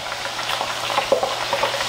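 Potato chips frying in hot oil with a steady sizzle, stirred with light scraping and bumping sounds, heard close with no talking.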